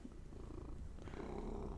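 A house cat purrs close by in a steady, low rumbling drone that continues through the whole stretch, with no voices.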